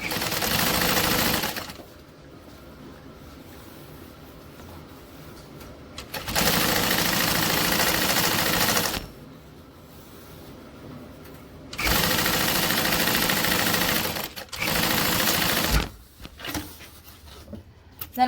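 Sewing machine top stitching a seam, three long bursts of fast, loud, steady needle whirring separated by quieter pauses, close up and without talk.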